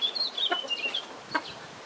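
Araucana hens cluck softly while foraging in the soil of a farm run that also holds roosters and a peacock, several short clucks scattered through steady outdoor ambience.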